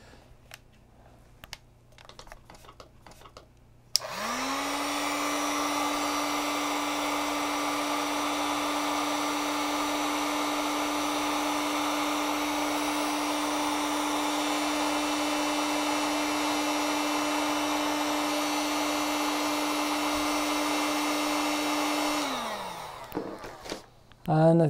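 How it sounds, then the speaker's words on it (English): Heat gun blowing hot air toward an LM35 temperature sensor, switching on with a rising whine that holds as a steady tonal whoosh for about twenty seconds before spinning down, with faint handling noises before and after. "Now I'm going to apply heat using this heat gun."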